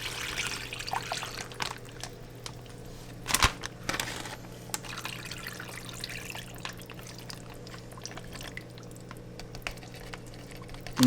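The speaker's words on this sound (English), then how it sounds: "Take our brine and pour it into the bags." Brine is poured into bags of lake trout meat, a soft trickling and splashing liquid sound over a low steady hum, with a few louder plastic-bag rustles and splashes along the way.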